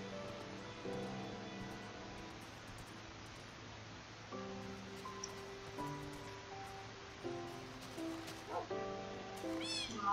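Several cats meowing in Minecraft Xbox 360 Edition, repeated short mews scattered over a quiet game background, some overlapping, with a soft hiss like rain underneath.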